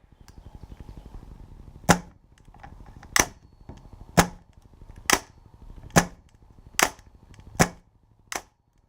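Gas blowback airsoft pistol and rifle firing eight sharp shots with their cycling actions, spaced roughly one second apart and loud, each crack standing clear over a faint steady background hum.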